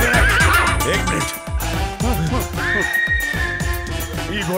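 A horse neighs and whinnies loudly and repeatedly in a Bhojpuri film scene, with a long rising whinny midway, while people talk over it.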